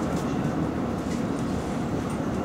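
Steady rumble of a London Underground S7 Stock train running on the Hammersmith and City line, a continuous low roar with faint rattling, no talking.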